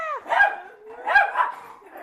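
Dog barking in an amateur staging of The Hound of the Baskervilles, two loud close barks spaced about a second apart with a whine between them.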